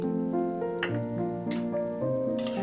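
Radish chutney gravy simmering in a pan, a soft continuous crackle and bubbling sizzle close by, steady and alone with no talking.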